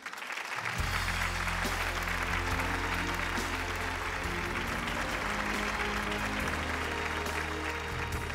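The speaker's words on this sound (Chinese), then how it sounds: "掌声有请道歉人汪洋。" A studio audience on a Chinese television talk show applauds steadily and loudly, over a sustained low musical backing that plays throughout.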